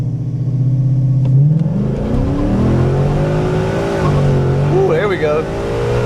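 A car fitted with a classic muffler launches from 2000 rpm with its wheels spinning, its loud engine roar climbing in pitch through the gears while tire squeal chirps near the end, and excited voices exclaim over it.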